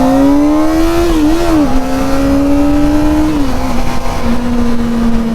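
A Kawasaki ZX-4RR with a 400cc inline-four engine screams at high revs, loud and close, the pitch climbing, wavering briefly and then holding steady for the whole stretch.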